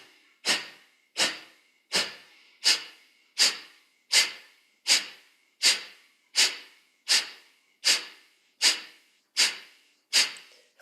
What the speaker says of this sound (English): Take a full inhale and a full exhale.